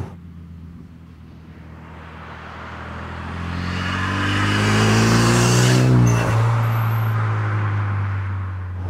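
A Renault Sport Megane RS250 Cup with a limited slip differential accelerates hard. The engine note climbs from a low drone to a loud, rising roar that peaks, then eases slightly, with no one talking.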